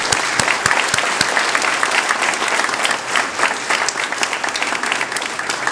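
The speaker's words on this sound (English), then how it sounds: "Let's give them a round of applause." Audience applause at a monument dedication for Winters Japantown: a steady, dense crowd clapping that stays loud and even throughout, with individual sharp claps standing out near the start.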